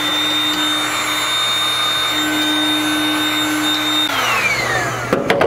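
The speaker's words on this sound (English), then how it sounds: "Use just a standard heat gun you can buy cheap at the tool supply." A standard heat gun blows hot air over a fire shield heat sleeve on AN lines, a loud, steady fan whine held for several seconds before winding down at the end with a few clunks.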